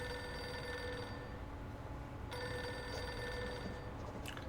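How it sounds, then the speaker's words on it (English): A desk telephone on an assistant's desk rings in a steady, continuous electronic bell tone, moderately loud over a dense background hum, briefly cutting out partway through. "Pick up the phone already!"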